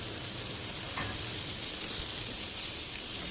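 Pointed gourd and pumpkin pieces fry together in hot oil, giving a steady, even sizzle that holds at a soft, close level throughout with no voices.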